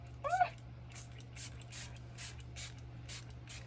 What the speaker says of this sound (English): So I sprayed this on my face.